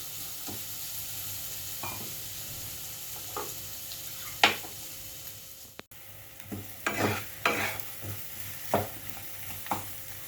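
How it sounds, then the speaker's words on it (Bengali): Muri ghonto with chira and fried potatoes is stirred in a frying pan, giving a low steady sizzle broken by irregular scraping clatters of the spoon, close and fairly quiet, with no talking. "দু মিনিট ভালো করে নাড়িয়ে তারপরে আমি জল দিয়ে দেবো।"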